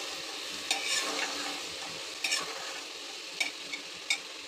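Chopped medium onion and spice powder frying in a pan for dal, stirred with a utensil: a soft, steady sizzle under a few sharp scraping strokes spaced a second or so apart, no voices.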